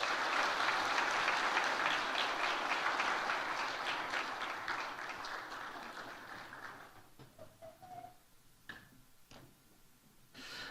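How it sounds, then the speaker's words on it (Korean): Church congregation applauding during a Sunday worship service, a warm wash of clapping that gradually thins and fades into a few scattered claps and faint sounds near the end. "박수로 한번."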